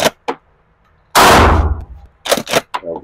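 A Mossberg pump shotgun fires buckshot at an outdoor range, one loud close boom with a decaying tail, set between brief clicks and clacks of handling and pump action before and after.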